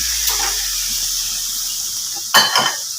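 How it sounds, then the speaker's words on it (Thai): Minced pork with kaffir lime leaves stir-fried in a hot pan gives a steady loud sizzle and hiss, with a few scraping stirs and a sharper spitting burst near the end. "ผัดหมูเข้ากับใบมะกรูด"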